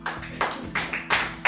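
Audience clapping at a Getting Things Done 2020 talk session, a few scattered claps in quick uneven bursts, fairly close and moderately loud.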